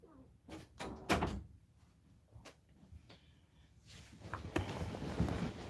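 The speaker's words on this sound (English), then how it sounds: "You have 4 seconds to come in here before I close the door." Several dull thuds and knocks come from a door being handled and closed indoors, faint and scattered over low room noise.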